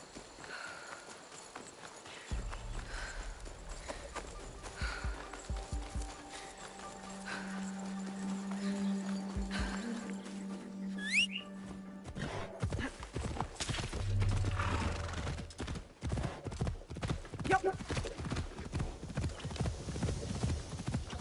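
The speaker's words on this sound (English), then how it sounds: "Even the horses galloping feel like they're fucking hauling ass." Horses gallop in the video game Assassin's Creed Shadows, a steady clip-clop of hooves with an occasional whinny, running under game music and ambient sound.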